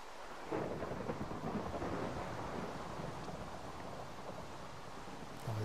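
Steady rain with a rolling thunderstorm in the game Minecraft, a dense continuous roar that swells early and holds, with a faint knock near the end and no talking.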